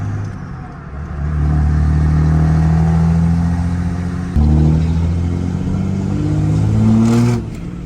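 A vehicle engine idles steadily after a new battery goes in, recorded close in a dusty outdoor workshop. It holds a low drone with a brief change in pitch partway through and a short rev near the end.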